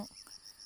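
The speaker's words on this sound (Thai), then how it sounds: "ตอนเช้าๆจะมีเสียงเขียดเสียงกบร้อง" Morning insect chorus over rice paddies in rural Thailand, a steady high shrill trill of crickets with a faint croak at the start, quiet and distant, no voices.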